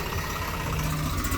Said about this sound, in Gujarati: અહીંયા સામે ટ્રેક્ટર આવી ગયું છે.